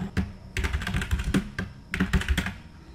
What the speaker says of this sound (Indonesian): Pada contoh ini saya ketik kirim file.